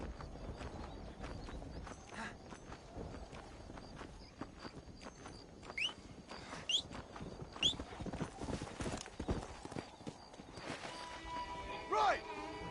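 Horse hooves clip-clop steadily at a walk in the Red Dead Redemption video game, close and moderately loud, with game dialogue and a voice talking over them and occasional bright chirps.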